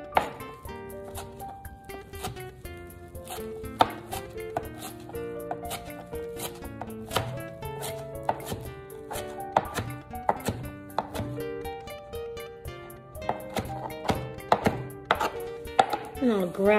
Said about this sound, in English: So now I'm going to start chopping the parsley